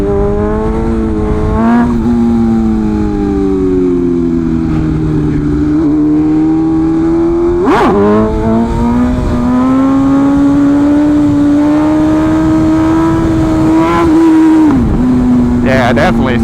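A BMW S1000RR sport motorcycle engine runs loud and close for the whole stretch during stunt riding, its pitch rising and falling as the throttle is worked, with sharp blips and a brief dip near the end.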